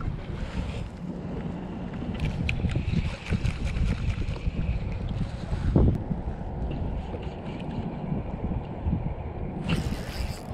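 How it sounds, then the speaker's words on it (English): Strong wind gusts buffet the microphone on a small fishing boat out on the water while crappie fishing, a steady roar with louder bursts and lulls, no one talking. "It's very windy out here."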